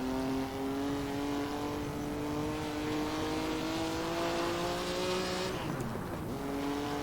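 Stirling Moss's Mille Miglia–winning race car accelerates hard, its engine note climbing steadily through a long gear, then dropping sharply at a shift before pulling again, loud and close throughout.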